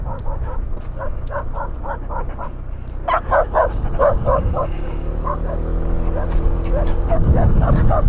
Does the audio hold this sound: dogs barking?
yes